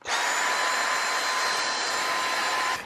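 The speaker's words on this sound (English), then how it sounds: "I'm just going to give it a little bit of a vacuum" A vacuum cleaner runs steadily and loudly close by while cleaning a ducted heating filter, a continuous high-pitched whine and rushing hiss with no pauses.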